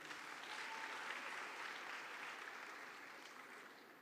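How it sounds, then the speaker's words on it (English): Applause rolls through a large audience at a youth conference closing ceremony in Kigali, Rwanda. The clapping sounds distant and soft, holds steady, then slowly fades. "Another round of applause for her"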